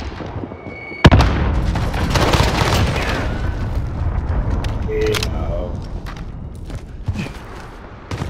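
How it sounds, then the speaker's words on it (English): A heavy boom in a Call of Duty Modern Warfare online match as a cruise missile strikes, one sharp loud blast followed by a long rumbling roar and scattered debris, with game voices talking over it. "Enemy cruise missile incoming!"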